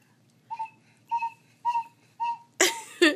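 A child blows a cheap plastic toy whistle from Dollar Tree that was glued back together, giving four short, breathy, wavering toots spaced about half a second apart, then a burst of air noise.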